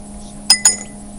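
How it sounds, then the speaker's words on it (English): Copper pennies dropped one after another into a brimming glass of water give two bright, close glassy clinks about a sixth of a second apart, against a quiet background with no talking. "And as Charlotte puts the pennies into the glass, without the water spilling over"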